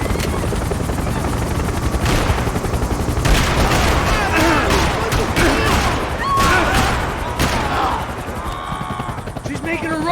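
Rifle gunfire in Max Payne 3 during a chase, dense bursts of shots over a constant helicopter-like roar, loud and close, with voices shouting throughout.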